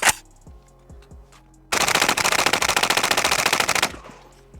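A Pioneer Arms 556 Sporter AK rifle fires at a shooting range, a loud, close, sustained rapid burst of shots lasting about two seconds, followed by echoing quiet.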